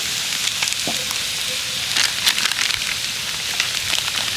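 Ground chilli, turmeric, coriander and garam masala sautéing in a pan for samosa filling, a steady soft sizzle with brief crackles and occasional stirring scrapes, no talk.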